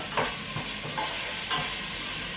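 Chopped tomato, onion and garlic fry in a pan with a dense, close sizzle, broken by a few soft scrapes of stirring.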